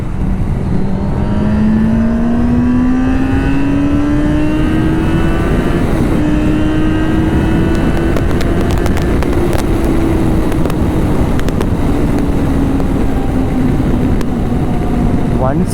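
A Yamaha Fazer 600 sport-touring motorcycle cruises on an open road, its engine a loud, continuous tone that climbs slowly in pitch as speed builds, wrapped in constant wind rush close to the rider.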